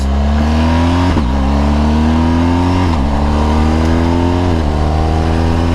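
A motorcycle on new tires cruises at about 80 mph down a straight, flat road, its engine droning loudly and steadily with wind rush, the pitch dipping and climbing again a few times before it slows.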